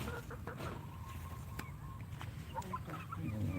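Native hens cluck softly over a steady outdoor background hum, with a few faint sharp clicks and an occasional louder cluck near the end.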